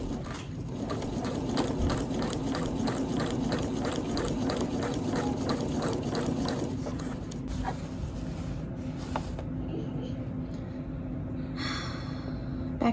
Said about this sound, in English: so it is sewing again